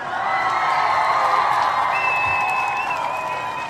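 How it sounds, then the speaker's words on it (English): An audience at a live Kuumba Toast event bursts into sustained applause, with clapping mixed with cheers, whoops and a shrill whistle rising over the steady roar. "Let's give them a round of applause"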